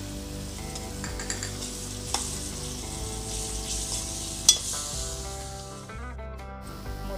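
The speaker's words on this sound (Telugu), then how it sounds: "పసుపు తర్వాత నేను కీమా వేసేస్తున్నా అండి" Mutton keema frying in a hot pan with turmeric, a steady loud sizzle with occasional stirring scrapes and one sharp clink, then the sizzle drops off near the end.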